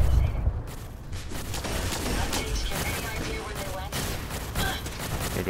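Turret gunfire in the video game Fallout 4 rattles out in rapid, dense bursts of shots, loud and sustained across the clip with sharper cracks punctuating the volley.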